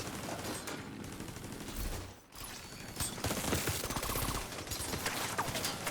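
Automatic gunfire from a weapon in the video game Division 2 rattles in dense, rapid bursts. It fires almost continuously, with one brief pause partway through.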